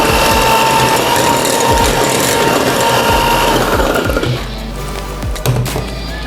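An electric mixer beats four eggs with 80 grams of powdered sugar for a chocolate sponge batter, giving a loud, steady mechanical whir with rattling beaters that eases slightly toward the end.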